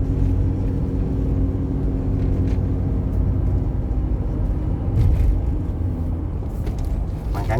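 Toyota Land Cruiser VX 100 with an automatic gearbox downshifting on kickdown, a steady loud engine rumble from inside the cabin that swells briefly midway with no clear jolt.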